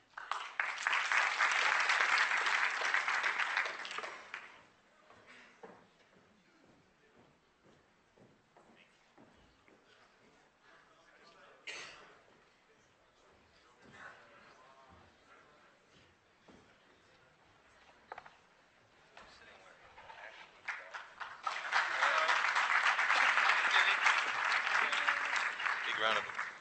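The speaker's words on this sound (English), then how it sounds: "Big round of applause." An audience at a debate event claps in a loud, dense round of applause that fades out. Several seconds of quieter talk follow, and then a second full burst of clapping swells up just as strongly.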